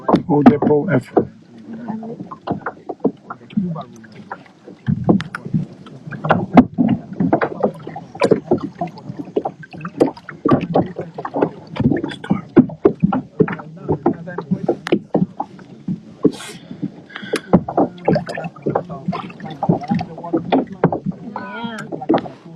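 Kayaks are paddled at night on a bioluminescent tour over warm, shallow water with a muddy bottom. Close paddle splashes and knocks come in an irregular rhythm while people talk throughout.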